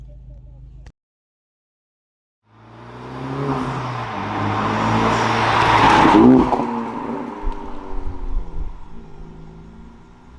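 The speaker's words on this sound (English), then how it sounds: "today we're going to be testing out the Type R in some curvy roads" A Honda Civic Type R FK7 drives on curvy roads, its engine rising from a brief silence into a steady, building drone with shifting revs and a peak near the middle, heard from close by.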